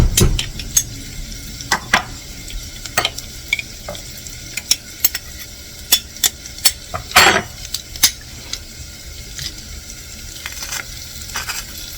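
Crushed homegrown, preserved garlic sautés loudly in a pot, a continuous sizzle broken by sharp, frequent clicks and taps of a utensil against the pot's sides.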